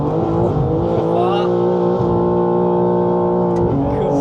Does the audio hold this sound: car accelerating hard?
yes